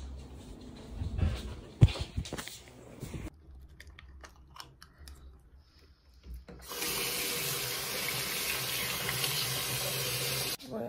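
A kitchen tap turned on to fill a glass for a drink, starting with clattering and handling noises, then a strong steady gush of running water that continues loudly to the end, close by.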